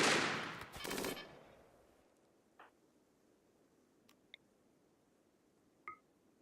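A short burst of gunfire in a RimWorld colony fight, loud rapid shots in the first second that fade to near silence, followed by a few faint isolated clicks and pops.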